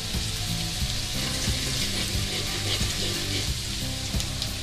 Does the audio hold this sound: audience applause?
no